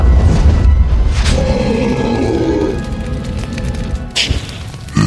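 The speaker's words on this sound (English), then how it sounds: "you remove the dragon star from your tunic and call for the fire dragon" A fire dragon is summoned in Wizard101 with a deep booming rumble that swells, then gives way to a whooshing burst and a final thud.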